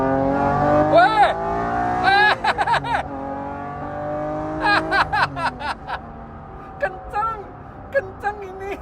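A 1995 Honda NSX-R accelerating hard, its VTEC engine revving up through rising sweeps in repeated pulls between gear changes, loud and close from inside the car, with voices exclaiming between pulls.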